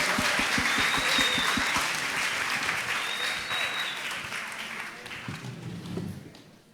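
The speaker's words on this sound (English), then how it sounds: "Can you give our panelists a big round of applause," Audience applause for the panelists at a food panel event, a dense and sustained clapping that fills the room, with scattered cheers, then slowly tapers off near the end.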